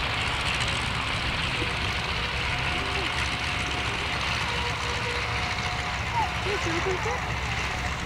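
Chuck Tippett's airshow plane flying a slip gives a steady, distant propeller-engine drone throughout, heard beneath crowd noise and a commentator talking.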